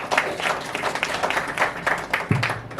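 Audience applause at a Marathi talk event honoring a community health worker, steady clapping from a crowd sustained for about three seconds at moderate loudness.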